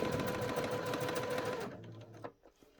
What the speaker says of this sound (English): just on the edge, sew that pleat down